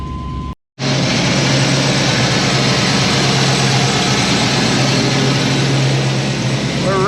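The Megatron vehicle's engine runs steadily and loudly after a brief silent gap, a constant low droning hum with a strong low tone held throughout.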